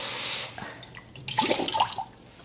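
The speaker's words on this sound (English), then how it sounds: "I'm going to pour out the water and then rinse it." Water is poured out and soaked Chinese yam rinsed, starting with a rushing pour, then a pause and a burst of splashing and dripping close by.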